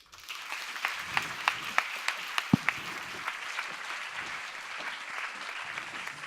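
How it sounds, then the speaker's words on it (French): Applause from a seated audience at a talk event, building after a few sharp individual claps near the start into a steady, moderately faint patter that continues to the end. "Merci de vos applaudissements"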